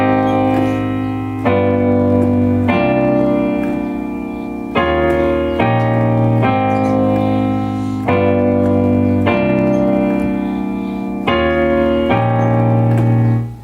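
Piano playing the first verse of a song: sustained chords that change in steady blocks every second or two, loud and close, with no talking.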